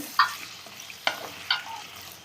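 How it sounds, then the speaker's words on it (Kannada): Tomato, onion, garlic and ginger frying in a pan for a Kerala-style fish curry, a soft sizzle under several sharp clicks of a spoon stirring against the pan, close and fairly quiet. "ಆ್ಯಡ್ ಮಾಡಿದ್ದು ಸ್ವಲ್ಪ ಹೊತ್ತು ಹಾಗೆ ಫ್ರೈ ಮಾಡಬೇಕು"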